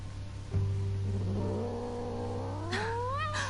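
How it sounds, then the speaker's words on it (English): Cat in Batman: The Telltale Series yowling with rising, drawn-out wails over a steady low game hum, loud and close, ending in a sharper hiss-like burst. "She's got one of them ugly cats."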